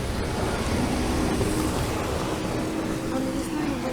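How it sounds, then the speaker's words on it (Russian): A small stream trickles where a river once ran, in a rural Russian village, giving a steady, close rushing wash of water with faint wind in the background. "Тут вот речка была. Образовался маленький ручеек."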